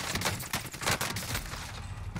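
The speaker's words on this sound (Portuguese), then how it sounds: "o gajo ao lado dá tiros" Gunfire from a neighbouring player in the video game Warzone, a quick scattered burst of faint, distant shots over a low background.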